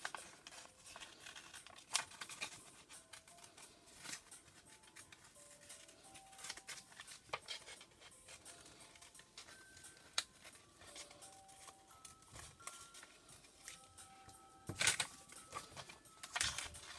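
Scissors snipping through paper while cutting out handmade bookmarks, faint scattered snips and rustles spread over a quiet stretch, with occasional light taps and no voices.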